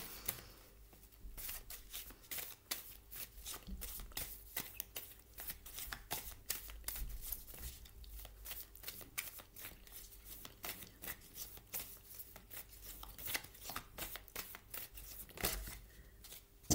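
Oracle cards being shuffled by hand in a steady run of rapid papery riffles and slaps, close and fairly quiet, continuing for the whole stretch with no talk.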